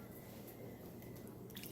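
Sake braising liquid is poured over food in a pan, giving faint soft squishing and dripping liquid sounds with quiet background hiss.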